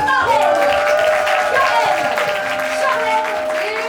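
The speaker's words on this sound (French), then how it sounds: "je vous demande évidemment un tonnerre d'applaudissements pour l'équipe bleue" Audience applause and cheering for the blue team at a dance improvisation match, a sustained wash of clapping beneath a loud host voice over a microphone.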